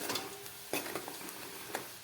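Onions with salt and turmeric are stirred in a pan for a Kathiawadi-style dish, with soft scraping strokes and a few sharper spoon clinks against the pan over a faint sizzle.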